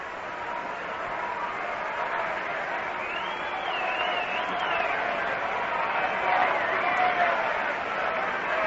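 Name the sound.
baseball crowd rhythmic chant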